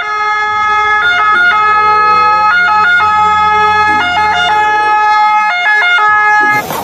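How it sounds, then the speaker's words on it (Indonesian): A toy ambulance plays a loud electronic siren, a repeating two-tone wail pattern heard close and alone for several seconds. "Yang ini mobil ambulan"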